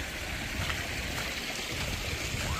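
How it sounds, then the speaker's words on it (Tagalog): A river on the trail to the Mt. Pinatubo crater lake rushes steadily, a constant hiss of flowing water, moderately close and uninterrupted, with no talk over it. "Ang sarap sa tenga nung tunog ng yung ilog."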